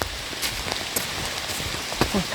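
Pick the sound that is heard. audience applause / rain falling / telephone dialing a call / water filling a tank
rain falling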